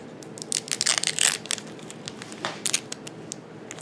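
Several quick, crisp snips and crunches of scissors cutting through paper notes, clustered in short bursts with brief pauses between, close up and without talking.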